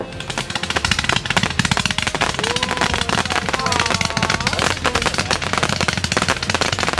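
Fireworks going off in a dense, rapid barrage of crackling bangs and pops over seven seconds, loud and continuous like gunfire, with people's voices shouting underneath.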